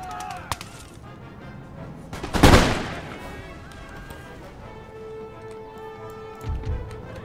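Line troops fire a musket volley in Empire Total War: one loud, crackling blast dominates, with a sharp shot before it and a duller boom later over quiet battlefield ambience.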